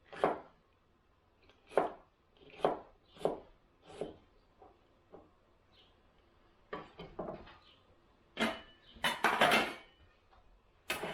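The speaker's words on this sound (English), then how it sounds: "for the salsa, I will cut them into smaller pieces" Knife chops vegetables for salsa on a cutting board in a quiet home kitchen, sparse single thuds and short clustered bursts of cuts, close and fairly faint with silence between.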